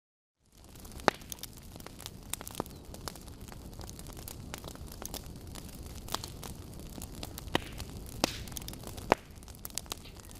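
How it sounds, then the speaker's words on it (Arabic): Cinematic fire sound effect: a continuous crackling, hissing roar of flames with scattered sharp pops and snaps, steady at moderate level for about ten seconds, no voices. "عند فاير اللي هي النار، صوت النار نضغط عليه مرتين"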